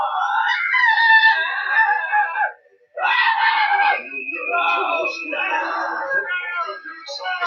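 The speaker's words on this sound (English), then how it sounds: "The new Nerf Turbo Screamer football, specially designed for the screaming sound of excitement." Nerf Turbo Screamer toy football giving off a loud, wavering high-pitched scream in long bursts, broken by a short gap and continuing to the end.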